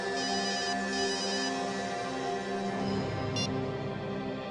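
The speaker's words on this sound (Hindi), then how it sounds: "किसका फोन है।" A telephone ringtone plays loudly and continuously, a steady electronic ringing melody close by with no voices over it.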